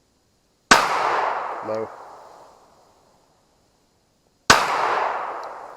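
Two sharp pistol shots with ATS Dark Diamond sights are fired outdoors at long-range targets several seconds apart, each followed by a long fading echo, with a brief spoken word between them.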